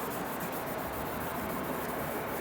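Fine 3000-grit sandpaper rubbing across a faded plastic car headlight lens during restoration, a steady, close, continuous scratchy hiss with faint rhythmic strokes.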